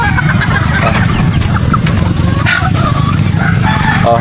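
Chickens cluck and a rooster crows amid a busy, noisy farmyard, with steady background rumble and scattered bird calls.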